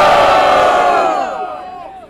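A large crowd at a rap battle in Botafogo roars with cheers and shouts for a rapper, loud and sustained, then gradually fading out toward the end.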